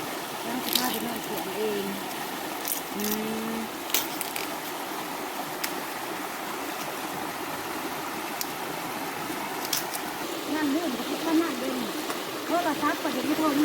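A forest stream flows in a steady, faint, continuous wash of water, with soft scattered knocks and a brief tonal sound over the running water.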